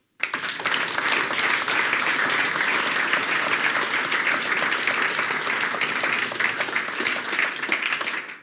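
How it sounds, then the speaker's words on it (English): Warm applause from the audience at a Last Mile Delivery meetup, a steady, dense wash of many hands clapping together that starts abruptly and holds at an even level throughout. "Give you and all the speakers a warm applause."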